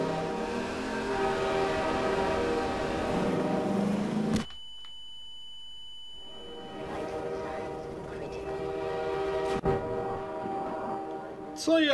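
A train in Half-Life 2 rumbles with a droning, tonal mechanical hum that cuts out suddenly, then returns with a sharp clank and a rising roar, while someone speaks in places.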